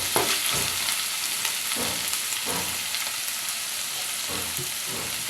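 Shrimp frying in a pan for an eggplant and shrimp curry, a steady close sizzle with faint stirring scrapes throughout and no talk.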